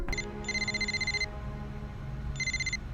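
A mobile phone rings in a classroom: two bursts of a steady electronic ringtone, the second after a short pause, with a low room hum underneath and no talk.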